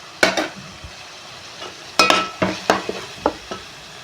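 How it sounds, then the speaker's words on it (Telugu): Tomato rice frying in a hot pan while a utensil stirs it, giving a soft sizzle beneath a run of sharp scraping and clinking strokes against the pan, close and clear. "ఇదంతా వేగింది హైలో ఫ్రై అయింది"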